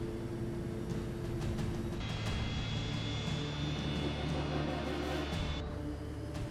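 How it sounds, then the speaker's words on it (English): A Fokker F-28 airliner strains through a slow, sluggish takeoff in snowy conditions, its jet engines sounding as a steady roar with a rising whine, heard from inside the cabin with faint background noise. "The F-28 struggles to get airborne."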